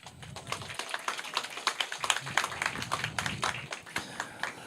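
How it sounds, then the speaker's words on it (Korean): Scattered audience clapping at a political party press conference in Korea, a modest crowd of individual hand claps with irregular rhythm, fairly quiet and without talk. "박수 한번 치세요"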